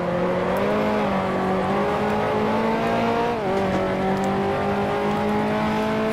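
A 1955 Formula One car in Grand Prix Legends, racing at Monaco, roars loudly and continuously, its engine pitch falling and rising again as it downshifts to third gear mid-clip.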